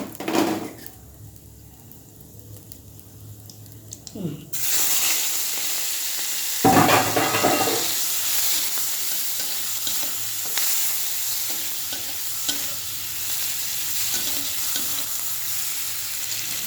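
Prawns are dropped into a pan of hot oil with fried cumin, bursting into a loud, steady sizzle after a quieter start, with a spoon scraping and stirring through the frying and no voices.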